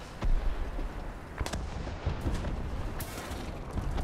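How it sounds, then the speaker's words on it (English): KV-2 tank firing high-explosive shells in the War Thunder video game, a few sharp booming blasts with rumbling decay over continuous low battlefield ambience. "I know it's a low shot, but this is high explosive."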